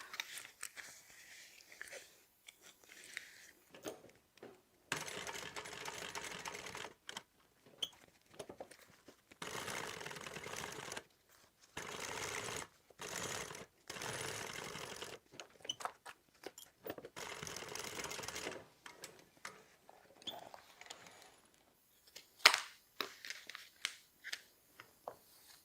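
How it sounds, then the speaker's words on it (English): A sewing machine top-stitches along the edge of a fabric bag pocket, running in several steady bursts of a few seconds each, separated by short pauses, close and fairly quiet, with no talking. "you're going to top stitch down all the way across and then back up this other little side"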